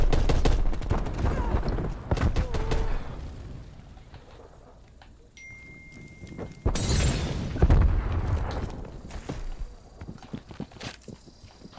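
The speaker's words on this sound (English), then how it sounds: "Throwing Semtex." Gunfire and explosive bursts from a Call of Duty match, with a Semtex grenade thrown and detonating amid rapid shots and scattered impacts, loud and close, fading briefly mid-way before a heavy blast and renewed firing.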